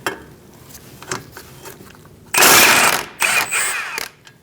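A ratchet works a bolt loose on a 2002-2006 Toyota Camry front suspension, scattered clicks and knocks, then a loud sustained burst of rapid ratcheting, close and without speech.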